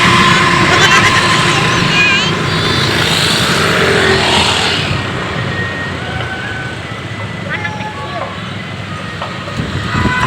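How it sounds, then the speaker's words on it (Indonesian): Motorcycles passing along a busy street, engines swelling and fading one after another, with children and adults talking nearby over the traffic. "Kebanyakan motor pada lewat."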